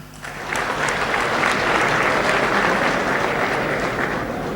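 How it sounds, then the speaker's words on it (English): Sustained audience applause at a formal military ceremony honoring the Chief of Defence Staff, General Elido Irabo, rising quickly and holding steady and loud throughout with no talking over it. "Please may I request for a sound of applause for him."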